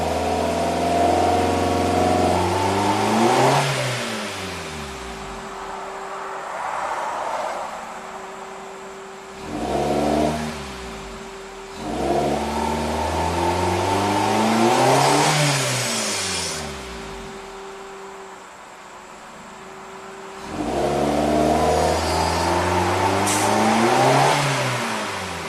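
A 2008 Suzuki SX4 with a low-power fault is floored repeatedly, and its engine note climbs in several long rising pulls separated by brief drops back toward idle, loud and close with no talking.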